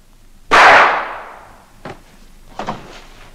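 One loud, sharp gunshot effect in a 1960 German crime radio play cracks out nearby and decays over about a second, followed by a couple of faint thuds and rustles.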